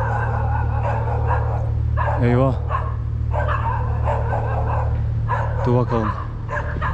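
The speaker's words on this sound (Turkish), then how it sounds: "Aa, köpek mi var bu sefer orada?" A dog barks a few times in the dark outdoors at night, with short yelping calls standing out over a steady low hum while someone talks nearby.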